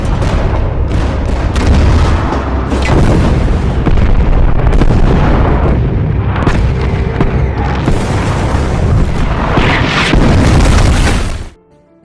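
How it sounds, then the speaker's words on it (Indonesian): Artillery fire rains down on Soviet troops in a battle sound effect, a dense, loud barrage of booms and bursts overlapping almost continuously for over ten seconds before cutting off. "artileri pun langsung ditembakkan"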